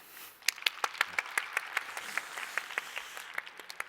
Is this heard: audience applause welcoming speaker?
yes